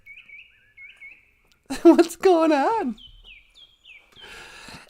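Small birds chirp outdoors in the early morning, a few short high tweets at a distance before and after someone speaks briefly.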